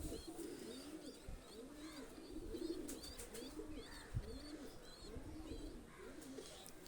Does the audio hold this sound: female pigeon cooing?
yes